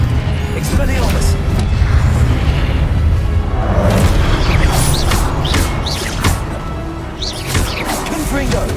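Disarming spell cast during a spell duel in the video game Hogwarts Legacy: loud, dense magical blasts and booming impacts rolling on without pause, with a shouted voice over the fray.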